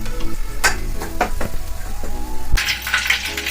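Onion paste sizzles steadily in a pan for Kolkata-style biryani, with sharp spatula scrapes and stirring clatter breaking through the hiss, and a louder burst of frying near the end.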